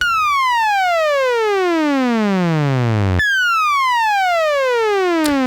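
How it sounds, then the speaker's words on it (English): A bright, buzzy sawtooth-wave tone from a Dubreq Stylophone Gen R-8 synthesizer glides steadily downward in pitch, then jumps back up and falls again, loud and with no voices. "Then a sawtooth wave."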